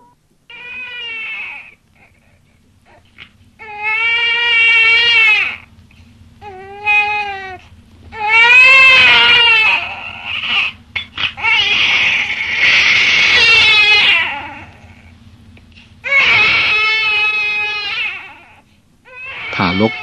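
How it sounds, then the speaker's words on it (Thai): Loud wailing cries of a newborn baby come in long, rising bursts separated by short pauses, alone without talk. "ทารกก็พ้นจากครรภ์มารดาส่งเสียงร้องดังกว่าปกติ"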